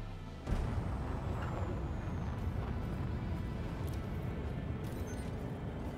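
A spaceship engine boost in Elite Dangerous: an abrupt low roaring surge kicks in and then holds as a steady, heavy rumble.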